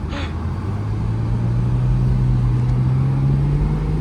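An older, inexpensive Porsche Boxster on new tires and brakes drives along a road, a steady low engine drone rising slightly in pitch as it accelerates, heard from inside the car.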